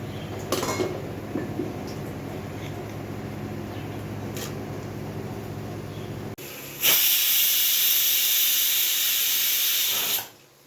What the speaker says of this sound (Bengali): মোচাটা আমি প্রেশার কুকারে দিয়ে দু তিনটে সিটি দিয়ে নিন